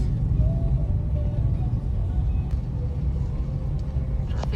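Road traffic in Tarlac, Philippines: a steady low engine rumble of passing cars and vehicles, fairly close and continuous, with a faint tonal whine and a few brief clicks, no talking.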